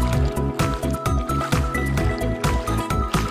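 Legs wading through clear seawater at high tide while island hopping in Patnanungan, Quezon Province: close, rhythmic sloshing and splashing in repeated surges, with no talk.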